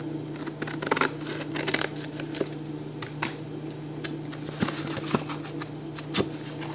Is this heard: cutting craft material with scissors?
yes